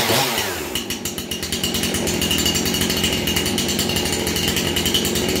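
Husqvarna 350 chainsaw firing up after pulls, sputtering and catching in the first second, then settling into a loud, close, steady buzzing idle with rapid rhythmic pulsing.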